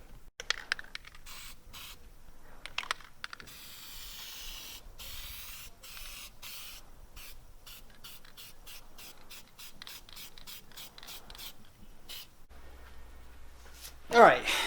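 Aerosol PlastiDip going on as a second coat over vehicle emblems, heard as a long run of short, close hissing spray bursts in quick succession, with a louder thump near the end.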